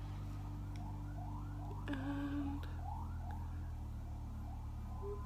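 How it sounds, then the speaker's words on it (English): A distant siren wails faintly in repeated rising sweeps over a steady low hum, with no one speaking. "there's been sirens like all day."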